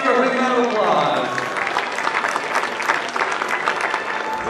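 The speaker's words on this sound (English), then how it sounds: "Let's give her a big round of applause." Audience applause after a magic and illusion show, a dense rush of many hands clapping that carries on under a speaking voice at the start and stays steady throughout.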